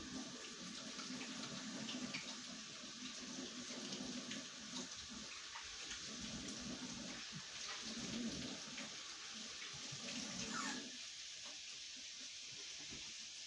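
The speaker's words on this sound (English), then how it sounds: "Then I'm gonna rewash my hands." Tap water runs steadily in a home kitchen sink as hands are rewashed during cooking, a continuous close splashing hiss with slight changes as the hands move under the stream.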